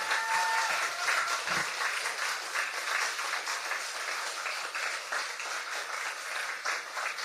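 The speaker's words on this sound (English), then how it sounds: "So another big round of applause." An audience at a literary event gives a sustained round of applause, dense clapping that stays steady and fairly loud throughout.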